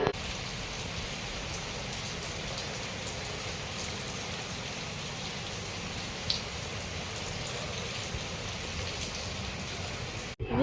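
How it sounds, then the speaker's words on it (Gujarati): Rain falls steadily outside in a constant, even hiss of drops hitting surfaces, with no voices and no change in strength throughout. "બહાર વરસાદ આવે છે. તો ચાલો તમને વરસાદ પણ બતાવી દઉં કેટલો વરસાદ અત્યારે"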